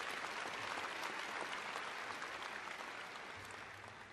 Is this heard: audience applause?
yes